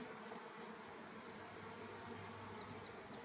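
Honey bees swarm around an open hive during a honey harvest, making a steady, faint, continuous buzzing drone with no talking.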